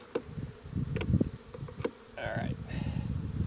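Honey bees buzz steadily around an open hive box during a hive equalizing job, a close, continuous hum with brief handling knocks and someone speaking briefly.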